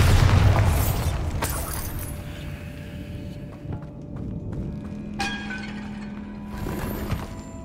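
A loud booming burst from the Bombarda explosion spell in Hogwarts Legacy hits at the start, followed by rumbling debris, thuds and clattering that fade over several seconds with a few later knocks.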